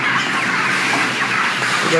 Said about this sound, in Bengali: এই পাশের মুরগিটা খাওয়া দেওয়া হচ্ছে